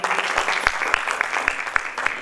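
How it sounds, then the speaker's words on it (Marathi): An audience claps at a patriotic poetry and literature gathering, producing a steady, dense wash of applause for the whole stretch, with a few sharper individual claps cutting through at moderate loudness and no voices heard. "तर भारत मातेसाठी टाळ्या वाजवा."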